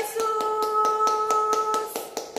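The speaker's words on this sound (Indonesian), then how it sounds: "Tepuk tangan buat Tuhan" Children and an online worship audience clap hands in a steady, evenly spaced rhythm of about a dozen sharp claps over a sustained musical tone, moderately loud and close.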